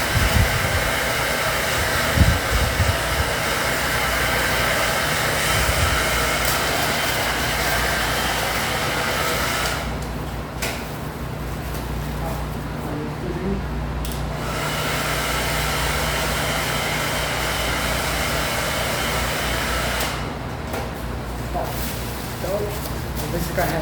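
A hair dryer blowing continuously to dry objects in a physics classroom demonstration, a loud steady whoosh that dips briefly twice, with a person speaking over it.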